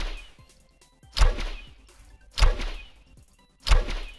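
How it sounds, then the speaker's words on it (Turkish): Custom fishing rod sound from a Minecraft texture pack, heard as three sharp whooshing whip-like casts spaced about a second apart, each with a thudding low hit and a fading hiss, with no talk over them. "Olta'da da değişik bir sesimiz var."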